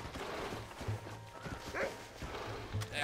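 Horse hooves clip-clopping in the Red Dead Redemption video game, a fairly steady run of hoofbeats mixed with game sounds and overlapping talk.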